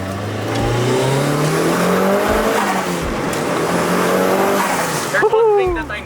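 A 1998 Mitsubishi Lancer Evolution 5 GSR engine roars under hard acceleration in second gear, its pitch climbing steadily before easing off near the end, loud and close.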